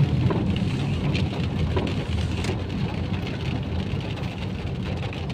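Heavy sudden rain pours down over a traffic-jammed road, a loud, constant rushing downpour with a low rumble of vehicles beneath, easing only slightly toward the end.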